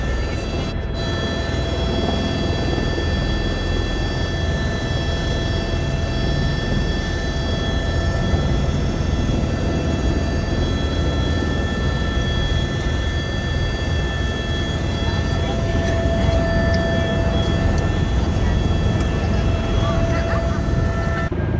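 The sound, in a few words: helicopter arriving at Naini Saini helipad, Pithoragarh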